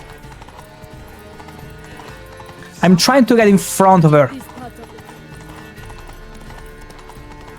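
Hooves clip-clop in a steady galloping rhythm throughout, from a horse in The Witcher 3, while a character's voice breaks in briefly over the running hoofbeats.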